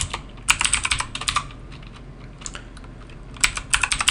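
Fast bursts of typing on a computer keyboard, clustered clicky keystrokes with a pause in the middle before another quick run, close and distinct with no speech.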